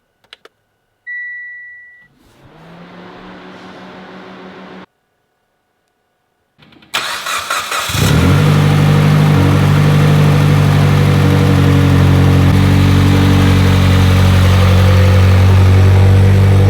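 A Mitsubishi Evolution X with a new fuel pump, injectors and rail cranks briefly after a few clicks and whirs, then fires up into a loud, steady idle that drones on close by.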